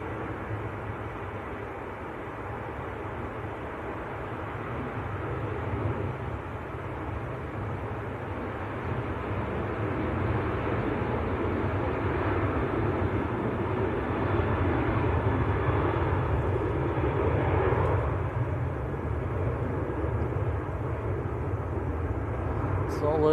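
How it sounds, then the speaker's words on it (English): Ryanair Boeing 737-800 bound for Alicante taking off at Manchester Airport, a long low jet roar gradually building in loudness as it climbs away, with talk heard over it. "We've got that Ryanair just getting airborne."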